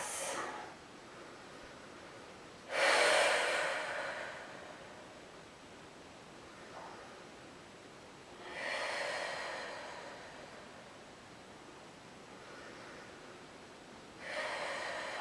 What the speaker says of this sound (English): Three more long breaths.